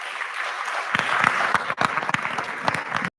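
An audience at an Augustana Library Associates event applauds to welcome author Dorothy Rosby, with loud, dense clapping that starts abruptly, is briefly cut off, then carries on until the end.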